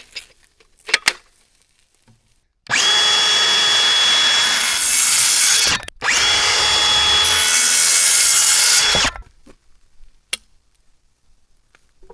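Hand saw cutting wooden boards for a chick brooder, two long loud bursts of steady rasping strokes separated by a brief pause, close and alone.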